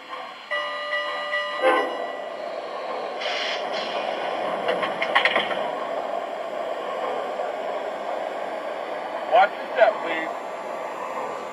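An MTH Premier NYC Motor Queen model train runs with a steady rumble and electronic announcement sounds, and a brief horn-like tone sounds near the start.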